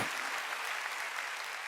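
A church congregation claps during a sermon, a dense, steady burst of many hands applauding at moderate distance, brief and unbroken.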